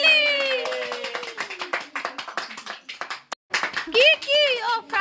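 People clap at a wedding gift unboxing, with quick bursts of hand claps mixed among excited, overlapping voices, including a child's, close to the listener.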